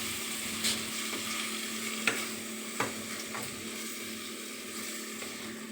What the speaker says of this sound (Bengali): এইবার দেবো আমি পুরো লাউ পাতা বাটা, তার উপরে দেবো একটু নুন। এইটাকে ভালো করে আমি কষাবো একটু।